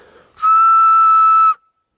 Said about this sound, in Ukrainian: Ось так свистить гільза.